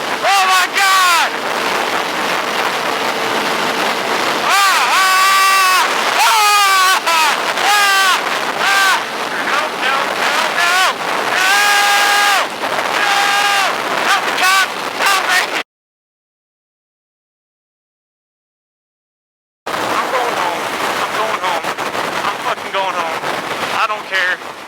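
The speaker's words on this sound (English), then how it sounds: "Oh, it's so windy!" Strong storm wind in Nevada buffets the microphone in loud, continuous roaring gusts while people talk and exclaim over it, cutting to silence for a few seconds before the blustery roar resumes.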